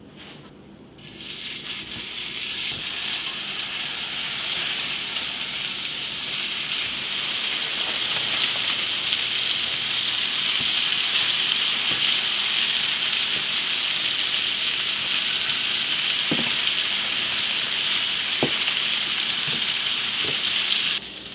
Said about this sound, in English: Now I'm going to move it over to the stove and pop them in the skillet.